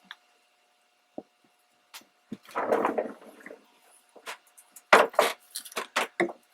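Scattered wooden clicks, then a short creaking rustle, followed by a cluster of sharper creaks and knocks in a quiet room.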